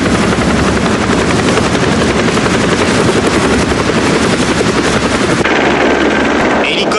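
A rescue helicopter hovers overhead during a river rescue, its loud rotor chop pounding steadily and densely over the whole stretch, with the roar dropping slightly in the final seconds.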